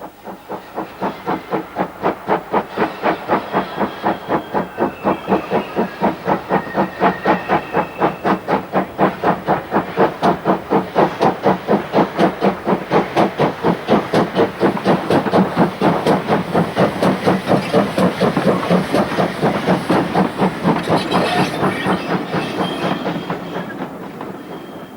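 A Great Western Railway steam express locomotive of the early twentieth century runs steadily past, its rapid rhythmic exhaust beats and hiss loud and continuous, swelling slightly mid-run and easing toward the end.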